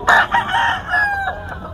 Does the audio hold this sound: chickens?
yes